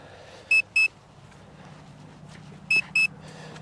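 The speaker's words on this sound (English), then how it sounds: "So we got that beep" Two pairs of short, high electronic beeps from a Hubsan Zino Mini Pro drone returning home to land, about two seconds apart over a low steady hum, clear and close.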